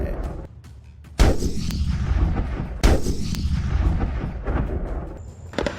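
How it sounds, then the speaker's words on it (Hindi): Indian Army artillery guns firing at night during a war exercise at the Mahajan field range in Rajasthan, two heavy booming blasts a second and a half apart, each rolling into a long echoing rumble. "तोपों की दिल दहलाने वाली आवाज से दुश्मन का कलेजा दहल रहा है"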